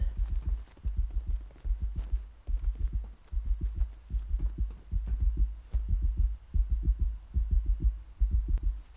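Heartbeat in a Fortnite horror map, a loud, steady low double-thump pulse repeating throughout with a faint hum beneath, no talking.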